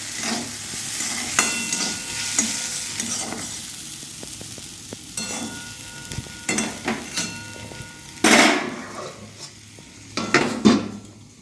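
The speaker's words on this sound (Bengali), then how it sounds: "আর এখানে হচ্ছে পেঁয়াজ কলি শাক ভাজা।" Onion stalk greens fry in a pan with a steady close sizzle, broken by repeated scraping and clattering stirs of a utensil against the pan, without talk.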